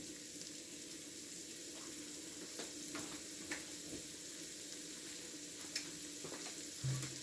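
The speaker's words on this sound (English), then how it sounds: "I'm going to try to clean the bottom of my saucepan in here." A spoon scrapes the bottom of a saucepan of sizzling chicken and onion, with soft, intermittent scraping strokes over a quiet, steady frying hiss.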